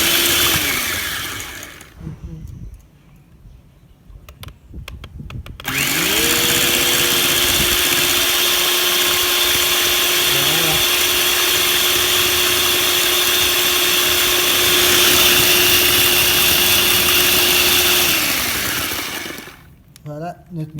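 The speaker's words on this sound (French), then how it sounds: "à l'aide de notre batteur, on va aller tout doucement d'abord" An electric hand mixer whirs loudly through chocolate cake batter made without fat, starting after a few clattering knocks, then running steadily at a humming pitch for about twelve seconds before switching off.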